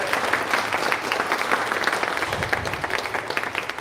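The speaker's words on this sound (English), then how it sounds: "So round of applause for Chef Nussbaum." Audience applause fills the room at a pastry arts competition awards ceremony at Walnut Hill College, a steady dense clapping that carries loud and continuous throughout.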